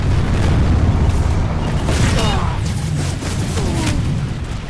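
Booming explosion as a generator is destroyed in the PlanetSide 2 video game, a dense, loud, rumbling blast sustained among continuous battle noise with no clear gaps.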